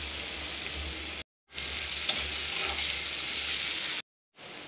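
Chopped onions and green chilies sizzle in oil with dry red chilies and cumin, a fairly quiet, steady hiss that cuts out twice to brief silence before resuming.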